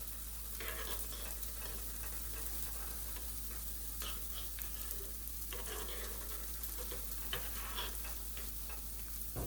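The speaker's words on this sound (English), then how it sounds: "you wanna just make sure you stir a little bit, get it integrated into the rice" Butter being stirred into cooked brown rice in a hot pan, a soft steady sizzle with intermittent spoon scrapes and stirring clatters, fairly quiet and with no voices.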